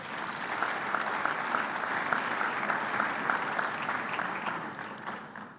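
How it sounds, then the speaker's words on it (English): Conference audience at the 3i Africa fintech summit breaks into sustained, even applause from a large room, a dense steady roar of clapping that fades slightly at the close. "I think this deserves a round of applause."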